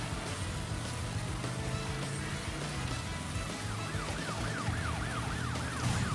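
A wailing police car siren sweeps up and down in the Crash Bandicoot 3 video game, rising over a steady game soundtrack and engine hum, with the siren clearest toward the end.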